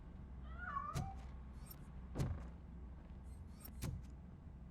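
A cat meows faintly in the Robocop Rogue City video game, a brief distant call near the start, followed by a few sharp knocks and thuds over a low, steady ambient hum.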